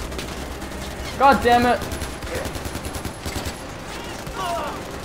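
Rapid bursts of gunfire in the Far Cry 4 video game, several volleys crackling over a few seconds with someone shouting over the shots.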